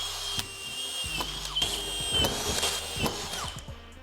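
Screws are driven into metal clips with a power drill, the motor whining in short bursts between sharp clicks and knocks, close and fairly loud with no talking.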